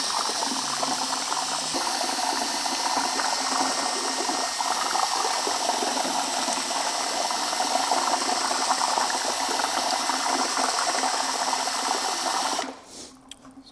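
Plaster and water for slip casting is agitated violently in a container, giving a loud, continuous, rapid churning and sloshing that stays steady for about twelve seconds before abruptly dropping away, with no talk.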